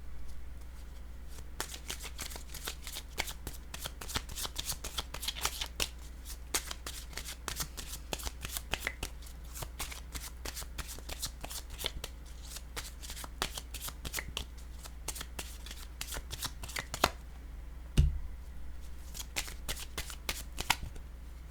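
Playing cards shuffled steadily for a long stretch, a dense run of quick riffling flicks close by and fairly soft, with one brief louder snap near the end.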